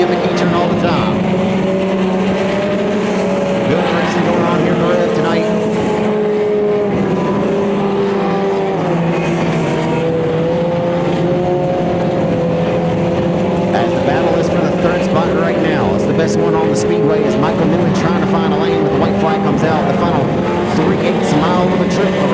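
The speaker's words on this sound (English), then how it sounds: "Good racing going on here in the Rev tonight." Compact race cars roar around the high-banked Revolution Raceway Park oval in Monroe, Louisiana, a loud sustained engine drone with shifting pitches as several cars circle, with an announcer talking over it.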